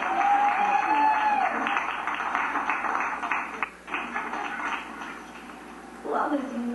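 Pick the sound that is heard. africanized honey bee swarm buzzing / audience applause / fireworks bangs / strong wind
audience applause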